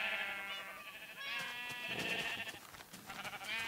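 Sheep bleating in the video game Minecraft, several wavering bleats overlapping from close by over a faint background, with no voices.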